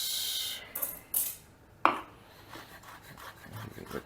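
Potatoes tipped into a pan for a Spanish-style potato omelette, making a few short clattering knocks and scrapes, with one sharper thud in the middle, close and fairly quiet, no talking.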